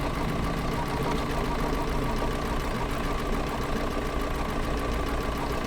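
A sewing machine fitted with a circular sewing attachment runs in a steady, continuous mechanical whir with a fast even rhythm, heard up close with no talking.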